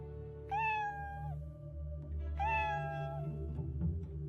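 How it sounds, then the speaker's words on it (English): Two drawn-out meows from kittens tucked in a pocket, each lasting under a second with a pause between, heard fairly close over a steady low background hum. "Meow. A sound came from Heidi's pocket."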